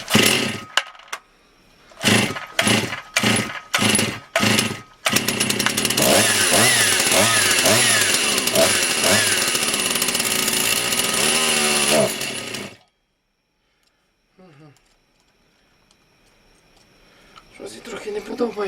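A Motor Sich 270 petrol chainsaw is pulled several times in quick sputtering bursts, then catches and runs loudly at a high, wavering pitch for several seconds before cutting out, leaving near silence with faint noise.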